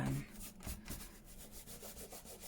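Rapid back-and-forth rubbing on a journal page makes a close, rhythmic papery scrubbing, with quick repeated strokes filling the whole stretch and no talking.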